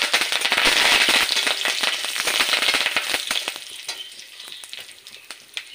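Black mustard seeds, whole cumin and curry leaves hit hot oil in a loud, dense crackling sizzle with sharp popping spatters, strongest at first and slowly thinning out.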